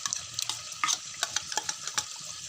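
Yogurt stirred into chicken nihari in a pot, heard as repeated wet squelching strokes and light spoon taps in an uneven rhythm, close and moderately loud.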